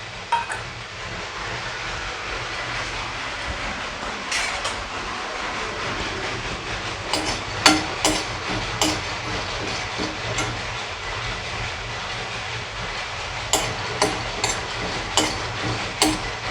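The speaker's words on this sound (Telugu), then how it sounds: "పల్లీలు, కొబ్బరి, నువ్వులు అన్నీ మనం ఇలాగే వేపుకోవాలండి." Peanuts being dry-roasted and stirred in a pan, a steady hiss with repeated dry scraping and rattling clicks as the spoon turns them, sharper strokes clustering toward the end.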